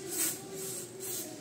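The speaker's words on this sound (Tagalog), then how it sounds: "spray mo natin ng yan, DW4D or kung kahit anong lubricant" Aerosol WD-40 lubricant sprayed onto rusty shock mount bolts on a 2007 Honda Civic FD, giving a steady hiss with a couple of brief louder bursts, close and alone.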